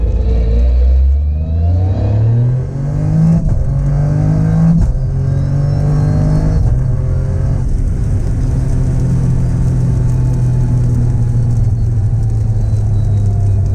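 A 300 kW Toyota GR Yaris rally edition with a sequential gearbox and MoTeC electronics accelerating hard, loud in-car engine roar climbing through rapid gear changes, each shift cutting the pitch before it rises again.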